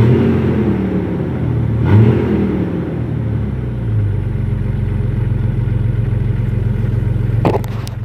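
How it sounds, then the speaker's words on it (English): A 2000 Jeep Grand Cherokee Laredo with the 4.0 engine idles with a loud, close, deep rumble, revving up briefly before settling back to a steady drone, with a light clatter near the end. "Yep, that's how she sounds when she revs up."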